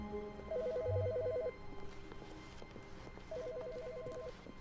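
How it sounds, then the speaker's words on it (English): A telephone rings in an office in The Stanley Parable, two short trilling bursts with a gap between them, clear at moderate volume over quiet room tone. "There's a phone ringing."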